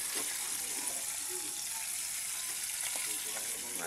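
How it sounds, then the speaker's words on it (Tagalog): Food frying in hot oil in a home kitchen pan, a steady dense sizzle with scattered pops and crackles throughout, loud and close with no talking. "tingnan nyo yung piniprito ko"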